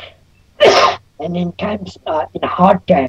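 A single sharp sneeze bursts out near the start, followed by someone speaking in an interview setting.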